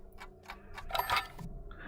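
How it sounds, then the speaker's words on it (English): An alarm clock ticks in the Alan Wake video game, sounding as a series of soft, evenly spaced clicks. A brighter clattering burst comes in the middle, and a faint hum runs underneath. "So alarm clock instead of coffee flask. And we can actually hear them."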